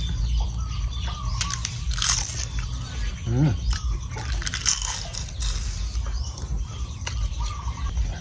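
Crispy deep-fried mulberry leaves coated in batter are bitten and chewed close up, giving repeated dry crunches over a steady low background, with one short voiced burst partway through.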